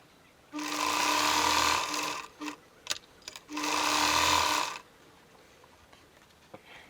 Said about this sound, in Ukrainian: і прошиваю на машинці всі ці квадратики, щоб закріпити.